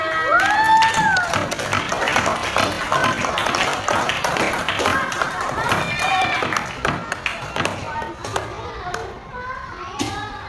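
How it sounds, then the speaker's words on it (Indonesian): A primary school class clapping their hands together, dense rapid applause mixed with children's voices and cheering, loud and close, tapering into scattered claps toward the end. "Kita tepuk tangan dulu untuk semuanya."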